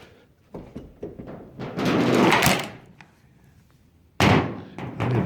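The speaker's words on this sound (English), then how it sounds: "Wes calls it Ford door, but it's more than just Fords that do this with these big heavy doors" A heavy door on a 1971 Plymouth Scamp creaks open with a long scraping swing, followed by a loud solid thunk, close by amid light handling noises.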